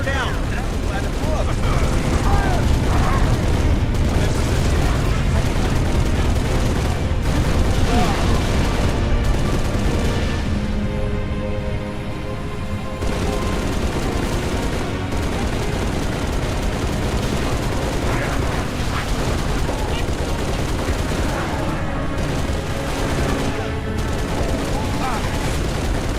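Gunfire and explosions in a Halo battle, a dense, loud, continuous barrage of shots and booms that briefly thins before resuming, with voices talking over the combat.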